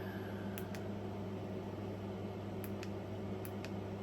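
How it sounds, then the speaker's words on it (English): Low, steady mechanical hum with a constant tonal drone and faint airy hiss, like an air conditioning unit running, with a few brief soft clicks. "My air conditioner just came on."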